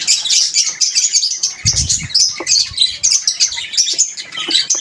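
A lone pet parrot chirping and squawking close by in a yard with pigeons and chickens, with bright, rapid, repeated tweets running continuously, a brief low rustle partway through, and no talking.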